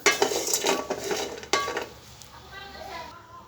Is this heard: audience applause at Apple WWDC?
no